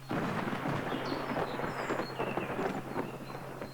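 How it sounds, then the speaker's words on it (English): Low rolling thunder from an approaching storm over a farm rumbles continuously, fairly loud, with no talk. "Here come that storm I tell you about."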